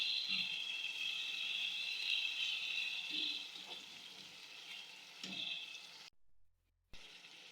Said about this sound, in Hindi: तमाम चीज़ों को अच्छी तरह से मिक्स कर लूँगी।